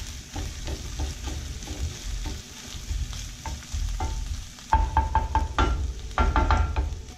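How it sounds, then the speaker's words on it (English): Onions cooking in a pan with anchovies and thyme, stirred by hand: a steady close sizzle underneath, with a run of scraping, knocking utensil strokes that grows louder and busier toward the end. "stir that up. And then we're gonna let this cook just a little bit more until these onions are just wet"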